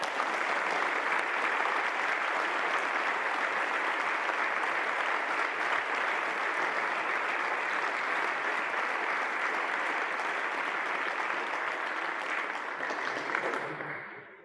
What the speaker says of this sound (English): I think we should all take a moment to applaud Dean Raiders' leadership and service